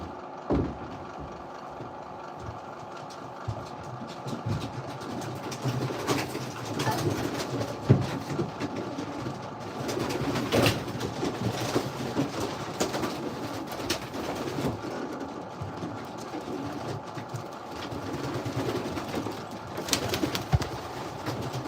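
Racing pigeons in a breeder loft coo and flutter in a steady low murmur of bird sounds, with occasional rustles and knocks nearby, and no one speaking.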